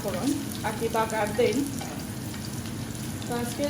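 Whole spices sizzle and crackle in hot oil as a tempering for Sylheti flaxseed khatta, a close, steady frying hiss with small pops and a few stirring scrapes.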